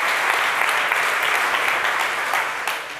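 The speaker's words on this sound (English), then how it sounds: "So now you can applaud." An audience at a business software presentation claps in steady, dense applause that holds at an even level for about three seconds before thinning slightly at the end.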